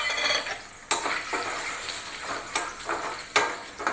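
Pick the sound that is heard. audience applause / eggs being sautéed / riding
eggs being sautéed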